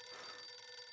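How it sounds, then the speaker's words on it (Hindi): A mobile phone rings in a shop inside a mall, a bright electronic ringtone that pulses continuously through the short moment, fairly quiet and alone. "अब भाई साहब किसी का फोन बज रहा है आप में से?"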